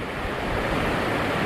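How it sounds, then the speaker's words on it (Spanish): A forest stream runs among lenga, ñirre and coigüe trees near Cerro Bandera, Puerto Williams, in rainy weather, giving a steady, close, rushing broadband wash with no voices. "Estamos a la orilla de un arroyo, de un estero,"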